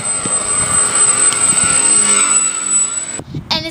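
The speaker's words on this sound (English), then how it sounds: "So having the motor up front really pushes a lot of air to do that." An RC plane with its motor and propeller mounted up front runs at a steady, loud high whine with a constant buzzing tone, then cuts off abruptly near the end, leaving a few small clicks.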